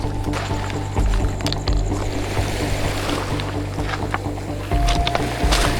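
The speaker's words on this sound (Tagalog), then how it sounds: "Bangka." A motorized outrigger boat (bangka) chugs steadily on the water near a low-tide island at night, a continuous close engine drone with water splashing and rushing throughout.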